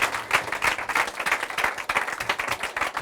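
A church congregation breaks into loud applause and cheering for Jesus, with dense clapping and raised voices filling the room steadily for the whole stretch.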